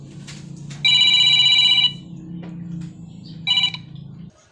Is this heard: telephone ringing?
yes